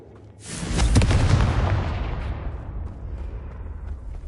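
A Confringo blasting spell explosion in Hogwarts Legacy, one loud booming blast that swells in and then decays into a long rumbling tail.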